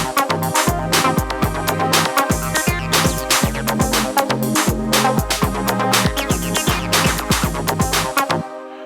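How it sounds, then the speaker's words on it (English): Layered synthesizer chords, a supersaw on one oscillator with pulse-width modulation on the other, running through a Zoom RFX300 effects unit for reverb in a Korg SQ-64 and MAM MB33 setup. Dense, loud sustained chords pulse rhythmically for about eight seconds, then stop abruptly. "This is a super saw combined with pulse width modulation on the other oscillator."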